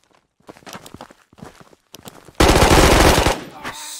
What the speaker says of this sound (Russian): Еще кто-то стреляет.